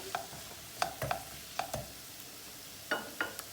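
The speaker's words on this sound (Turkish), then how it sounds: "Yumuşak bir şekilde soğanımızı kavuracağız" Onions sauté gently in a pan, with a low sizzle beneath a series of distinct spoon or spatula scrapes and knocks against the pan, arriving in short irregular bursts, close by and without speech.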